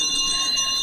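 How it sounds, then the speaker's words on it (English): An old Victorian house bell rings as a radio drama sound effect, giving a brief, steady metallic ring with sustained high tones and no voices. "Oh, I'll ring the bell."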